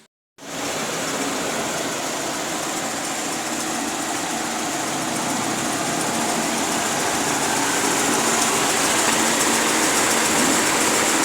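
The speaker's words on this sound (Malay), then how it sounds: "enjin dia ni gegar kuat ni. Kuat sangat gegar dia ni." A car engine idles roughly and shakes, lacking power, producing a loud, steady, broadband roar and hiss that starts abruptly and continues unbroken, heard close up with no talk.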